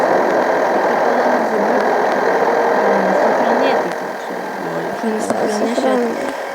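A vehicle engine drones steadily in Farming Simulator 14, a loud continuous hum that dips slightly partway through, with people talking over it throughout.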